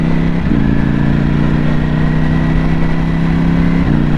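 A Ducati Panigale V4S motorcycle engine warms up at a steady, loud idle close by, holding an even throbbing drone with slight pitch shifts near the start and end, and no voices.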